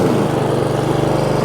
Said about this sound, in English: I'm gonna alternate between high and low, and this is gonna vary the RPMs and help the piston rings seat properly.